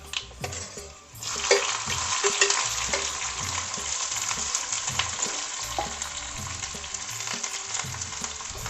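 Garlic and dried red chillies fry in an iron kadhai. The loud close sizzle builds suddenly after a quiet opening and then continues steadily, with occasional stirring scrapes.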